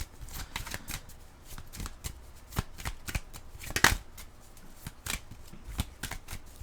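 A pile of oracle cards is shuffled by hand, producing a steady run of close, crisp riffling flicks and soft slaps at an uneven rhythm, heard alone without talking.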